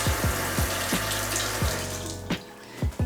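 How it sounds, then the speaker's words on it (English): Water runs steadily from a tap into a bathroom sink while a makeup brush is wetted, a constant hiss with soft splashes and periodic low thumps throughout. "And then I get my brush wet in the sink"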